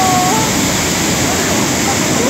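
Steady roaring rush of a waterfall cascade in Baños, Ecuador, loud and continuous broadband water noise filling the whole stretch, close by, with no talk over it.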